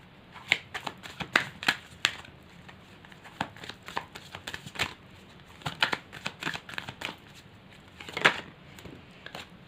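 Tarot cards being shuffled by hand, a steady run of soft, crisp riffling flutters and slaps close up, some bursts louder than others, with no talking.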